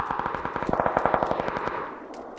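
A rapid burst of submachine gun fire in the battle royale game PUBG, roughly twenty evenly spaced, punchy shots with an echoing tail that trails off after the burst ends, with no talking.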